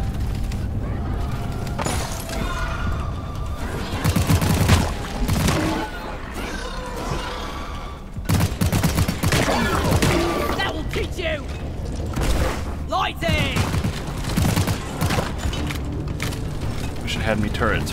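Turrets blaze away in Deep Rock Galactic, a dense, continuous clatter of rapid shots and booming impacts under a busy wash of game noise, with a few brief lulls.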